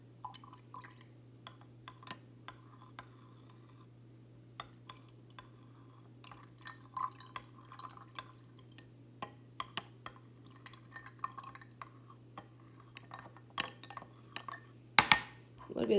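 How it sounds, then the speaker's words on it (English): Sodium carbonate solution is poured into calcium chloride solution and stirred, with faint clinks of a utensil against glassware and soft liquid sounds over a low steady hum, growing louder near the end. "slowly add the sodium carbonate solution to the calcium chloride solution in B, stirring gently"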